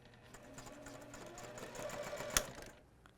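A sewing machine sews one long seam on fabric for half square triangles, its soft, steady whir continuing for about three seconds with a sharp click near the end.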